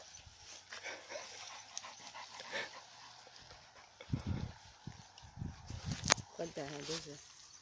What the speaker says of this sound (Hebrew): איזה כלב הזה